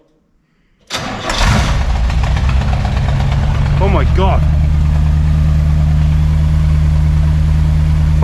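A V8 engine with a freshly repaired manifold cranks briefly, catches, and settles into a loud, deep, steady idle close by, with a short excited exclamation over the rumble.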